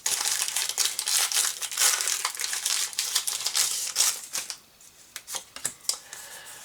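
Pokémon booster pack foil wrappers crinkling loudly and continuously up close, then a few sharper tearing and rustling crackles as the packs are ripped open.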